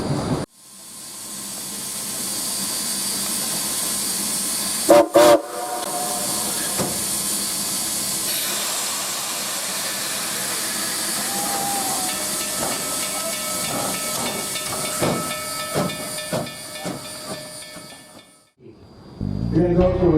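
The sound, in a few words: oil-fired steam locomotive pulling up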